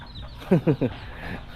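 Three quick clucks from a chicken rise in a short rhythmic burst over quiet outdoor background.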